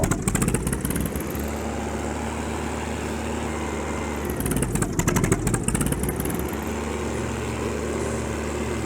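A Kubota tractor engine in Farming Simulator 19 roars continuously while pushing a pile of sticky clay, a loud, steady droning rumble that swells and strains in the middle, with no talk over it.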